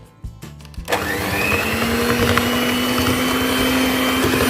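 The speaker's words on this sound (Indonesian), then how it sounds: "Kemudian mixer lagi selama 1 menit." After a few clicks and a brief start, an electric hand mixer runs continuously at a steady whine, beating cake batter with butter, dissolved sugar and an added egg for marble sponge cake. It is close and loud.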